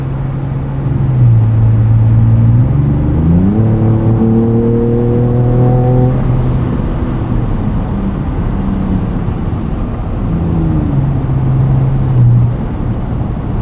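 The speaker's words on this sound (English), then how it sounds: "it seems like there might be a little bit less exhaust drone" A 2024 Ford Ranger Raptor with a Ford Performance tune drones steadily from its exhaust while driving, the tone rising and falling through gear changes in a loud, constant cabin hum.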